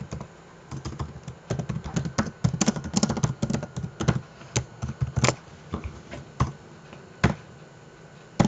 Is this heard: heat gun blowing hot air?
no